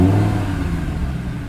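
An Audi R8 engine fires up and revs, giving a deep roaring exhaust burst at the start that settles into a lower rumbling idle, close and loud with no talking.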